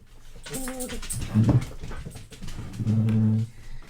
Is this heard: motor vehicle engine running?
no